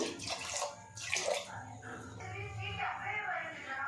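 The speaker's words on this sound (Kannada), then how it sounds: "ಈಗ ಸ್ವಲ್ಪ ನೀರು ಹಾಕ್ತಾಯಿದ್ದೀನಿ" Water splashes and gurgles as it is poured into a pot of green gram (moong beans) in a few uneven bursts, close by.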